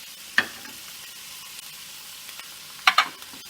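Chickpeas frying in a pan while being stirred, a low steady sizzle with a couple of sharp scraping clatters from the stirring utensil.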